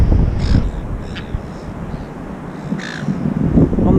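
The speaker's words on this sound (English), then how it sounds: "The local seagull gang." Gulls calling on Waitpinga Beach in South Australia, a few harsh squawks spaced across the clip over steady wind and surf noise, moderately close.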